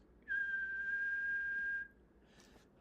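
A person whistles one clean, steady tone for about a second and a half, fairly quiet and alone, before it stops into near silence.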